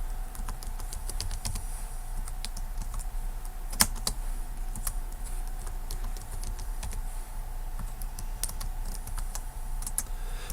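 Steady keystrokes on a computer keyboard while a password is entered on a movie review site's registration page: quick, light clicks in an uneven rhythm, fairly quiet and close, with no talking.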